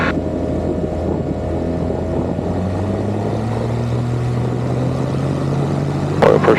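A small aircraft engine drones steadily and loudly nearby with flaps set, its pitch climbing gradually as it gains speed, and a brief clatter comes near the end.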